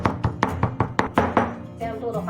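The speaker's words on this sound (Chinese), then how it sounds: "接着我们用刀背给它剁碎" Peeled shrimp minced with the back of a knife on a cutting board, a quick run of close, dull chopping knocks that slows and then gives way to quieter handling.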